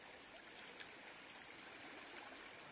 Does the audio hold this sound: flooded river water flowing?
yes